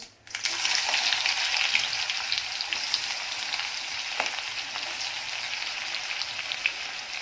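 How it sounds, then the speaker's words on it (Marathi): Finely chopped onion and ginger fry in a mustard-seed and cumin tempering, starting with a sudden loud hiss that settles into a steady dense sizzle, close and alone. "राई जिरं छान तडतळलेलं आहे त्याच्यामध्ये एक मोठा कांदा बारीक चिरलेला आणि थोडंसं आलं घेतलेलं आहे"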